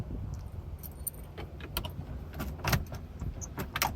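Car keys jangle and clink in a steady metallic rattle beside a 1992 third-generation Camaro F-body found in a junkyard, close and clear over faint outdoor background.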